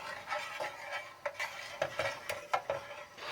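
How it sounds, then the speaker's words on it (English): Custard being stirred in a pot on the stove, with a spoon scraping and knocking against the pot in an irregular rhythm, close and fairly quiet, with no talk. "Be sure to continually stir it, but don't let it boil."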